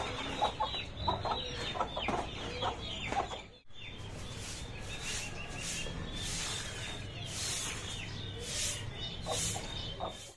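Aseel chicks chirp and cluck in a dense, steady chorus close by, their high peeps overlapping continuously with a brief lull partway through.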